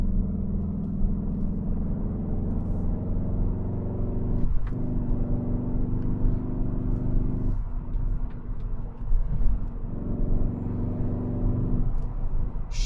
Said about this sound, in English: is this the sound of a straight four?